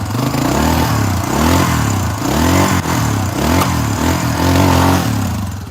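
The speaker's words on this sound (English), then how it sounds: "see if we can start the bike for the heck of it. It's old school kick." An old kick-start motorcycle engine runs loud and close, a steady low throbbing idle with rising and falling revs and a mechanical clatter throughout, with no talking.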